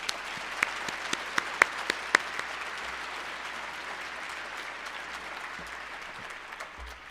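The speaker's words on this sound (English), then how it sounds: "let's give a round of applause to all the breakthrough speakers" A school ceremony audience claps for student breakthrough speakers, starting with a few sharp early claps, then a steady sustained round of applause from a crowd in a hall that tapers off near the end.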